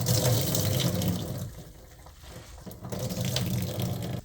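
Tap water runs into a kitchen sink while red pepper leaves are rinsed, a steady close splashing stream that dips briefly in the middle and then picks up again.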